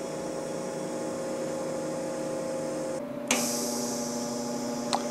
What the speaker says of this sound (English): the drive rollers have started. Now they're sending wire through the hose